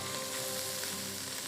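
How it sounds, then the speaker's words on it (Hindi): Onions fry in oil with whole garam masala in a pan, giving a steady, close, continuous sizzle with no talking. "प्याज को आपने हल्का सा सुनहरा करना है।"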